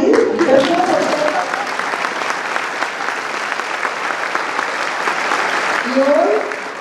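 Audience applause at a parents' assembly in Colombia, a loud, sustained clapping crowd that holds steady for several seconds, with brief voices rising at the start and end.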